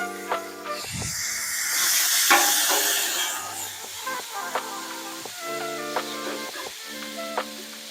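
Leftover holiday roast and vegetables reheat on a Blackstone 22-inch Adventure Ready griddle, giving a steady soft sizzle and hiss broken by occasional clicks and scrapes, with no talking.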